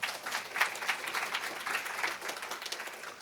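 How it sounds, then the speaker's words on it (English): An audience at a national staff meeting claps steadily for about three seconds, a dense, even patter of many hands with no voices over it. "So one more round of applause"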